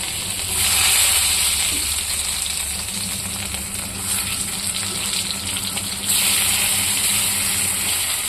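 Boiled potatoes frying in hot oil, making a steady, loud sizzle that holds without a break and swells now and then, with nobody speaking over it.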